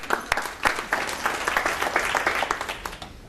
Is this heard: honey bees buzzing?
no